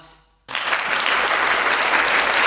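Sudden burst of audience applause at a student podcast recording, starting after a brief quiet moment and holding steady and loud as many hands clap together.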